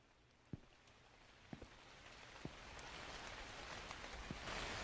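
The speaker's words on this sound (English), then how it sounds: "The sound of the rain." Steady rain in the video game The Convenience Store hissing across the whole stretch, growing gradually heavier, with a few sharp drips or taps standing out near and loud.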